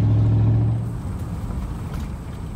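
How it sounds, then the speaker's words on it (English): Steady low engine rumble and road noise from inside a car on the way to a lake, loud at first and then easing to a softer continuous drone. "now we are driving to the lake"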